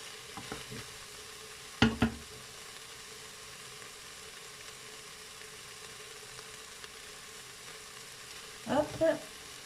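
Veal pieces sizzle steadily in a Cookeo pot, a soft continuous frying hiss with a couple of brief clatters of the meat being stirred or moved.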